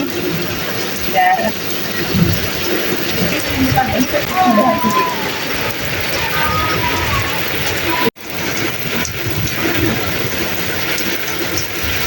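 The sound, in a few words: rain on a mud house village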